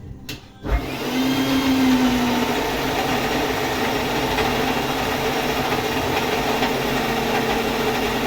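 A mixer grinder whirs steadily, grinding a masala with turmeric into a fine paste for mutton sambar; after a brief start-up click the motor drones loud and unbroken up close.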